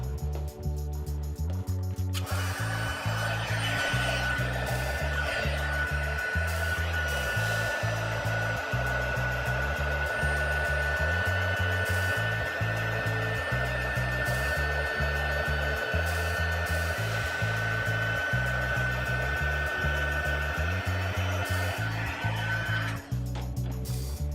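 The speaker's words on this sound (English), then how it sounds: "And now for the fun with the heating tool." A handheld heat embossing tool blows hot air in a steady, loud, continuous whoosh with a faint high whine, running for about twenty seconds with no one talking over it.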